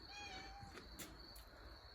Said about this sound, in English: There's our resident kitty cat.